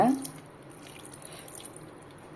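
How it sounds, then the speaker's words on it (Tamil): A small splash of water is poured into rava batter in a bowl, heard as a faint, brief trickle and drip that is quiet and close. "கொஞ்சமாக தண்ணி சேர்த்துட்டு கலந்து விடுங்க"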